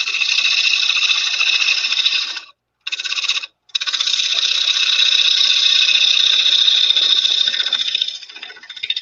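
A walnut bowl being hollowed on a wood lathe gives a loud, steady hissing cut, broken by two brief pauses and then running on, with the scraping easing off toward the end.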